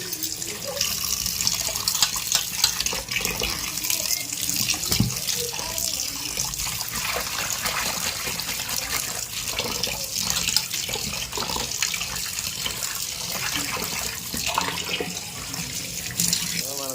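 Salted fish is rinsed under a running kitchen tap, the water streaming continuously and splashing close by for the whole stretch, with shifting gurgles as the fish is turned under the flow.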